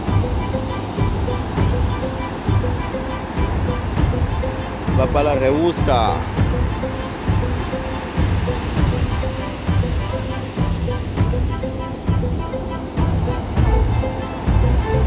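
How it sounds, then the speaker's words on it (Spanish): Rough, stormy open sea with waves crashing in a steady, loud roar of surf that fills the clip, while someone speaks briefly over it. "ese furioso mar."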